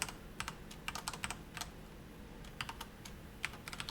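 A computer keyboard clicks in short irregular bursts of keystrokes, close and fairly quiet, as a folder name is typed, with no voices.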